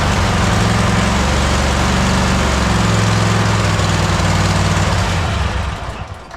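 Engine of a Cub Cadet Super LT 1550 lawn tractor running on full choke, a loud, close, steady rough drone that holds for several seconds and then sags and fades as if about to die.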